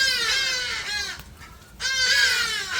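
Loud, harsh bird calls repeat in two bursts with a short gap between, close by and with no talking.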